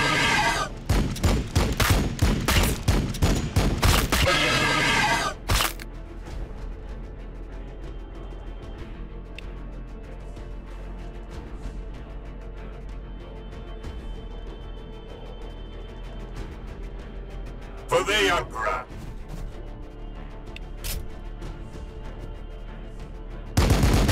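Units open fire in Warhammer 40K Battlesector, a dense, loud fusillade of overlapping shots for about five seconds, then a quieter battlefield rumble broken by a few later bursts.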